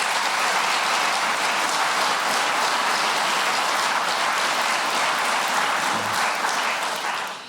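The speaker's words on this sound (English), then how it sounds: "round of applause." Studio audience at a quiz show gives a dense, even round of applause that holds steady throughout before tapering off at the very end.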